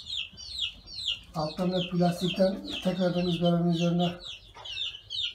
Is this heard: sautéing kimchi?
no